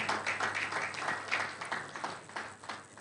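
Round of applause from a seated audience at a Nigerian carbon-capture conference, steady moderately close clapping that continues evenly throughout.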